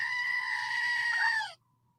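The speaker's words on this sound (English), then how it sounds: "where's my goat?" A goat gives one loud, close bleat lasting about a second and a half, wavering slightly and then stopping sharply into near silence.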